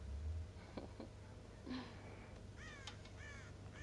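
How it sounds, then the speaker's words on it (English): Crows cawing in Red Dead Redemption: several harsh caws, some single and some in quick pairs, faint and somewhat distant over a low steady hum. "God damn crows!"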